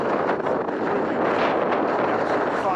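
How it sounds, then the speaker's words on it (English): A steady side wind of about 20 mph blows against a Simond Makalu T2 mountain tent at a winter wild camp, making a loud, continuous roaring rush with no breaks. "I think we're getting a steady 20 mile an hour wind from the side there"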